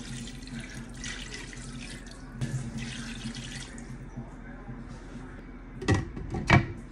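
Tap water runs into a pot for boiling meat in a home kitchen, a steady faint splashing stream, followed by a couple of sharp clanks of the pot near the end, with no talk.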